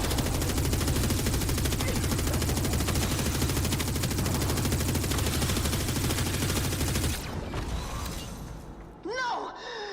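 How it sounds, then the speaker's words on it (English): Rapid automatic gunfire from the video game Warframe rattles continuously and loudly for several seconds, then cuts off into scattered mechanical clanks and creaks. "Just keep shooting."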